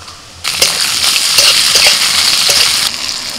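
Garlic, onion, green chilli and tomato hit hot fish oil with a loud, close sizzle that surges at once and holds steady, with a few crackles and stirring scrapes before it eases slightly at the end.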